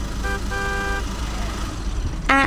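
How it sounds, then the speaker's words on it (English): A car horn gives a short toot, then a longer one, then a final sharp honk near the end, over a steady low engine rumble without talk. "Look, a car!"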